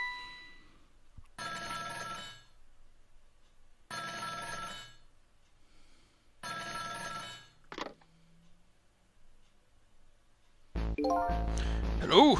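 A telephone rings in the video game Ghost Trick, three separate bursts of an electronic bell ring spaced a couple of seconds apart, followed by a short sweep and louder game music at the end.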